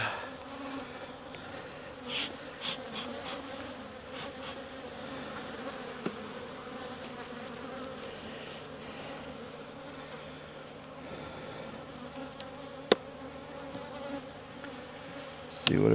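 Honeybees buzzing around an open backyard hive during an inspection, a continuous close hum with individual insects droning past, plus a few faint handling knocks.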